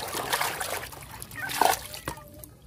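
A plastic toy animal is rinsed under water, producing close trickling and brief splashes with a few sharper splatters, over a light background murmur.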